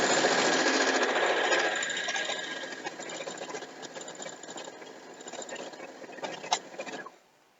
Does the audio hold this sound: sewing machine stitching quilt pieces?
yes